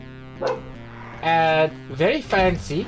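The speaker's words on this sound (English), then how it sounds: "Oh, I apologize for my dog." A pet dog barks and yips indoors behind a person playing Doom 2, several short barks in quick succession over a steady game soundtrack, with a brief spoken remark early on.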